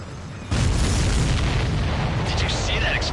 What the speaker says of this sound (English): Did you see that explosion?